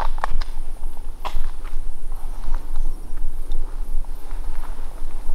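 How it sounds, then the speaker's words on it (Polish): Video game footsteps: steady thuds with scattered sharper taps over a constant background hiss of running water, moderately close and fairly even in rhythm. "Słyszałem tam krok."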